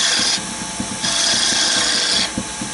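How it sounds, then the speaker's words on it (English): A wood lathe spins a chess queen while a spindle gouge cuts it, giving a loud, steady scraping hiss that rises and falls in two long passes over the motor's rhythmic hum. "kind of rough it out with this tool here. spindle gouge."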